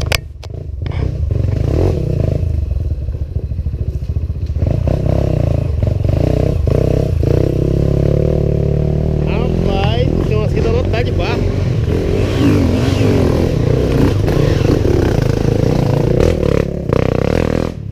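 Several off-road motorcycles ride a dirt trail at a trail event in Kaloré, Paraná. The engines drone and rev steadily and loudly throughout, with clattering and scraping, and voices talk over the motor noise.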